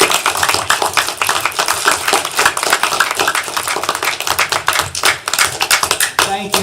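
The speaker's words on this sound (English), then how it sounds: "Can we give everybody who volunteered to run for mayor this morning a huge round of applause?" A crowd at a live public-speaking event claps for volunteers who ran for mayor, a dense, steady patter of many hands lasting several seconds, close and loud, with a brief voice near the end.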